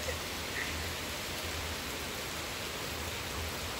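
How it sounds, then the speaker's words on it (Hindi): Steady rain falls outdoors during a downpour, a dense, even hiss of drops that stays constant and fairly loud throughout, with no voices. "कोई तो 10 मिनट हुए हैं बारिश होते हुए"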